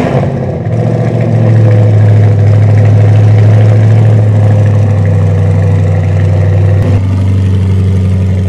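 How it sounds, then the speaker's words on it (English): A C8 Corvette Stingray V8 with a 91mm throttle body fires up with a quick rev, then settles into a loud, rumbling, lumpy idle close by. "we're gonna go ahead and start it up and make sure our idle sounds good"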